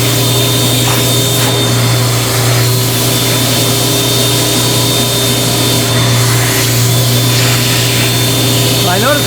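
A wet extraction vacuum tool draws water through synthetic upholstery fabric, a steady loud motor roar with a constant high whine running throughout, with a brief gurgling slurp near the end.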